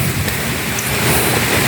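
Rain falls steadily outdoors during an airgun fishing outing, a dense, loud hiss of drops that stays even throughout, with no voices.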